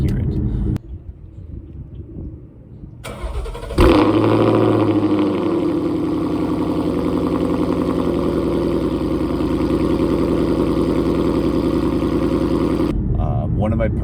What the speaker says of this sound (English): this one of course has the Corsa exhaust on it. So whenever I let off or change down gear, it just burbles uncontrollably